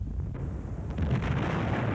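A one-kilogram demolition charge detonating inside a tank: a loud, heavy boom that rolls into a sustained deep rumble for about two seconds.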